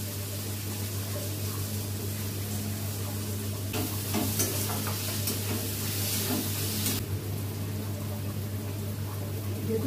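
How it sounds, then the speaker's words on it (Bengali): Garlic, green chilli and tomato with salt and turmeric fry in a pan, a steady low sizzle over a constant hum, with stirring scrapes growing busier midway and then easing. "আমি রসুন দিয়ে দিচ্ছি, লঙ্কা দিয়ে দিচ্ছি, টমেটো দিয়ে দিচ্ছি। এবার দেখো এটা একটু ভাজা ভাজা হয়ে গেছে"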